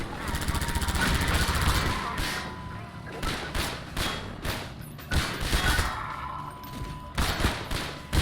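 Rapid bursts of heavy automatic gunfire from the mounted gun on an airboat in Half-Life 2, loud and sustained with short gaps between volleys, backed by dense game noise and music.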